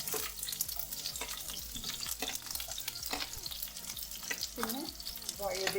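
Onion sautés in oil after mustard seeds have popped, as the base for a roasted-coconut sambar, giving a close, continuous sizzle with light stirring sounds layered over it.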